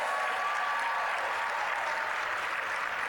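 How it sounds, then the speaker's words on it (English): Applause for the parents at the 38th Annual GIANT Awards, a steady wash of clapping from an audience, even in loudness throughout with no pauses. "let's give the parents a big round of applause"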